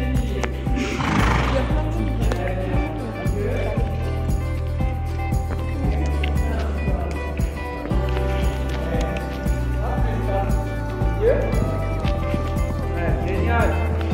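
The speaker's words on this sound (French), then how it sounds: "Il y a trop de chevaux." Horses at a show-jumping course neigh loudly and repeatedly, with hoofbeats and a voice talking over the busy outdoor scene.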